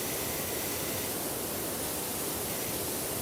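Steady broadband hiss of a pressure washer's light spray in the game PowerWash Simulator, continuous and even throughout with no talk over it.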